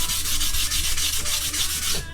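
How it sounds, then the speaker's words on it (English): Sandpaper rubs the wooden stock of a B-grade Steyr M95 Mannlicher carbine in rapid, regular back-and-forth strokes, close and loud with no talking. "So I'm gonna keep busting away on this here, sanding it down, getting it cleaned up a little bit"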